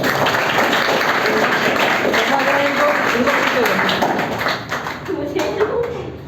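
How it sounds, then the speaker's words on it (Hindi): Crowd clapping at a student felicitation event for passed-out students, a dense sustained patter of many hands with voices mixed in, fading slightly toward the end. "आपकी क्लैपिंग बहुत अच्छी है।"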